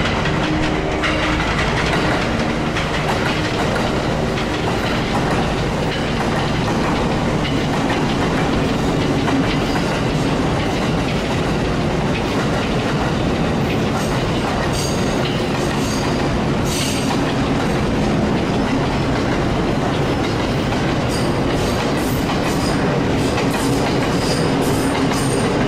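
JR trains roll through Chiba Station with continuous clickety-clack of wheels on rails, loud and close, with occasional wheel squeals and no voices.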